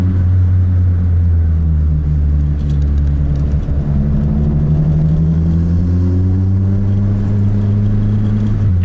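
Steady low engine drone of a car cruising in third gear on the Dragon mountain road, coasting on momentum with a smooth continuous rumble and gently shifting pitch, no voices.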